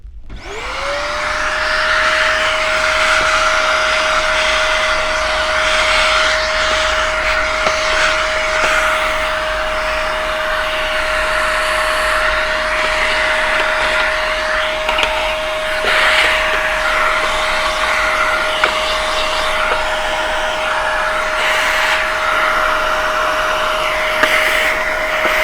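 Hoover WindTunnel vacuum cleaner running during a service with bag and belt changes, a loud continuous motor whine that spins up sharply and holds steady for over twenty seconds with no talk.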